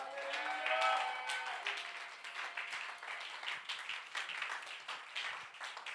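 A church congregation bursts into steady, dense applause and cheering at a worship night, the clapping sustained and fairly close throughout, with a raised voice briefly rising above it at the start.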